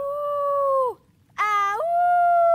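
A cartoon wolf howls in a Spanish-language children's animation, two long, loud sliding howls separated by a short pause, the second rising sharply before settling into a steady tone, with no speech over it.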